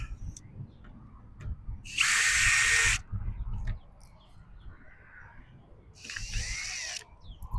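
An angle grinder runs in two separate bursts of about a second each, a loud, harsh, high whine near the microphone, with quieter shop clatter between them during ranch sign-making work.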